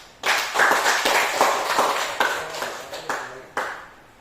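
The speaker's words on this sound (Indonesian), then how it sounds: "Kita kasih aplaus" Scattered claps from a small classroom audience after a group presentation, a handful of separate sharp hits spread unevenly over a few seconds rather than a dense, sustained round.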